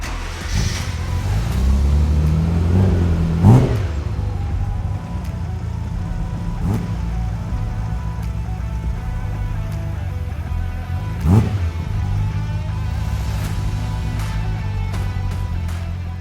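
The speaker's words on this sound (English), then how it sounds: "Now let's see what Goel drove here today" Green Ferrari F40 driving up, its engine a steady, loud, low rumble held close throughout, with a couple of brief revs rising above the drone.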